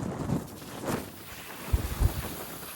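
Strong wind at an anglers' fishing spot on a cold morning rushes past the microphone in gusts, with two sharp low buffeting thumps near the end and no voices.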